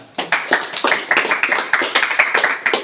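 Rhythmic group handclapping in a vocational high school classroom, a steady series of about twenty crisp, close claps in unison at a brisk even pace, with no talk over it.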